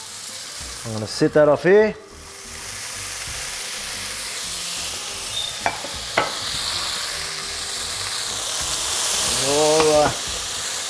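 Steak searing in a hot pan for Mexican tacos, a steady close sizzle rising and swelling toward the end, with someone talking briefly near the start and again near the close.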